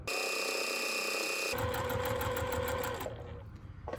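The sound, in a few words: sewing machine stitching foundation paper piecing seam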